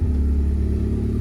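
A car engine idles while warming up, a brief steady low rumble with a throbbing pulse, close and even in level, with no voices.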